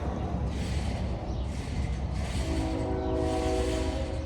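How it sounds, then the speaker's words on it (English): A train passes close by outdoors, its horn blowing in several long, loud blasts over steady rumbling wheel and engine noise throughout, with traffic also nearby. "Trains,"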